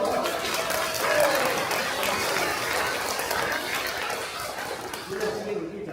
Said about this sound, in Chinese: 感谢你们拍手